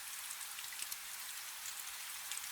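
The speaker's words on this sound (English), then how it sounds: "the rain has gone soft against the roof" Soft, steady rain falls against a roof as a continuous gentle hiss with faint scattered drops, quiet and even throughout.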